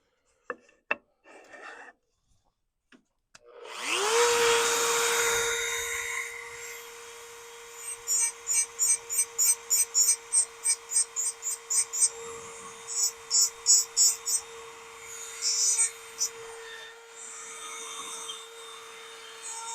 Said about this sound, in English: Now let's do a little more Dremel work here.